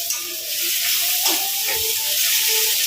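Fish curry masala with ginger garlic paste being stirred in a pan, giving a steady close sizzle and hiss with a few soft scraping strokes of the spoon, with no talking.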